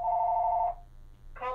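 A telephone bell rings loudly in a steady burst, stops, then starts ringing again after a short pause, with no talk over it.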